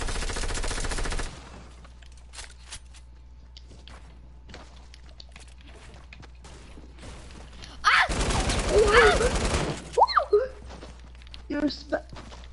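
Shotgun and rapid gunfire in a multiplayer shooter video game, starting with a loud burst, then quieter stretches, then a dense volley of shots with sharp bangs, with players talking at times.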